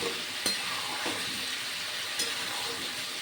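Spices sizzle in hot oil in a pan for aloo dum, with turmeric and Kashmiri chili powder added, giving a steady close frying hiss broken by two sharp clinks of a utensil against the pan.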